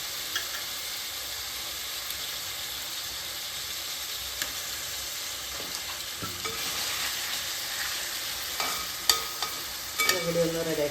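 Chicken pieces frying in hot oil for a home-style chicken curry make a steady, close sizzle throughout, with a few sharper crackles and spatters near the end.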